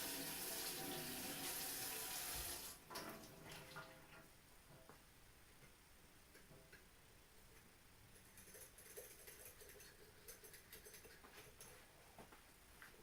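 Cold water pours steadily from a tap into a basin to make a cooling bath, loud at first, then dropping to a quieter trickle with faint splashes and patter.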